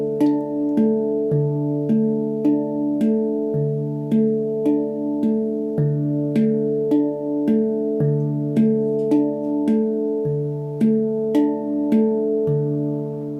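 Resonant handpan tones played in a steady repeating pattern, soft taps alternating with deep ringing notes that overlap and sustain, with no voices.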